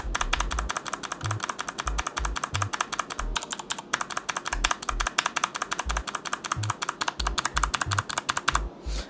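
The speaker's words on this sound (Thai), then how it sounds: "อันนี้คือ Gateron Brown ที่ลูบมาจากโรงงานของ Keychron" Typing on a Keychron K4 V2 mechanical keyboard with Gateron Brown switches, a fast steady stream of close, crisp clacks with deeper thuds from heavier keys, no voices.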